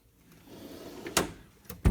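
Drawers of a Snap-on tool chest in a garage sliding on metal runners: a soft rolling slide, then a sharp clack, a second click, and a loud final thunk as a drawer shuts, close by.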